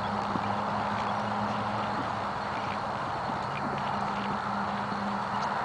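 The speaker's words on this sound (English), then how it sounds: "What an awesome horse." Hooves clip-clop in a steady rhythm on a hard surface, moderately faint against a background hum, with no talking.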